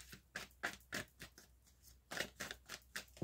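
A tarot deck being cut and shuffled, giving a rapid series of crisp papery card snaps and riffles, close and fairly quiet, with short pauses between bursts.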